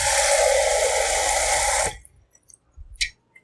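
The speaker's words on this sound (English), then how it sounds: "Okay, pour some water." Water pours into a bowl of thinly sliced cucumber in a kitchen, a loud steady splashing stream that cuts off abruptly, followed by a few faint clinks and small drips.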